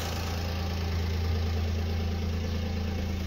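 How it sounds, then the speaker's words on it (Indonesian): A 2008–2009 Daihatsu Xenia with a VVTi engine idles steadily, a smooth, even low hum with a constant rhythm, close and alone without any voices. "coba kita hidupkan posisi sudah nyala mesinnya halus ya mesin halus"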